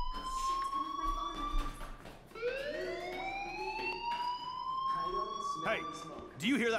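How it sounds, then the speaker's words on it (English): A fire alarm sounds in the Life is Strange video game, a rising electronic siren-like wail repeating in long sweeping tones at steady loudness, with game sounds and a brief bump of noise near the end. "Hey, do you hear that fire alarm?"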